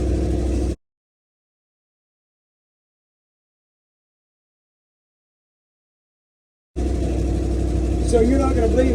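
A truck engine idles with a low, steady rumble, briefly audible, then dropping into silence for several seconds before the idle returns under a voice speaking nearby.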